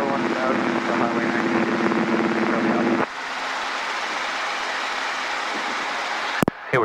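Robinson R22 helicopter in flight, its engine and rotor drone steady and loud in the cabin, with radio voices and talk layered over it and a brief sharp click near the end.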